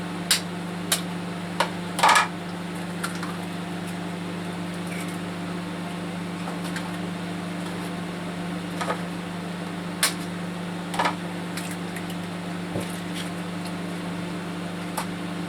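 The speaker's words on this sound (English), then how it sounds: "Any noises, bangs and clatters, I'm afraid is from the sound of the microwave." A steady low mechanical hum of a microwave oven running, broken by a few sharp clatters and bangs at irregular intervals.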